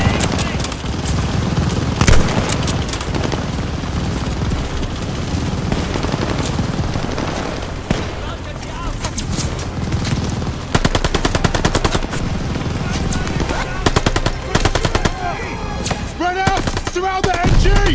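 Dense, sustained machine gun fire rattles continuously with overlapping bursts and booms in a Call of Duty Vanguard battle set in France, 1944, loud and close throughout, with faint shouted voices in the mix.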